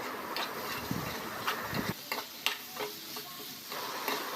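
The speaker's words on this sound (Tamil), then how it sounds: "இப்போ நம்ம நறுக்கி வச்சுருக்க காய்கறியை உள்ளே போட்டு லேசாக மிக்ஸ் பண்ணிவிடுவோம்." Chopped vegetables are stirred into sizzling masala for a salty kandam curry, with a steady fry hiss and a run of close scraping stirs against the pan.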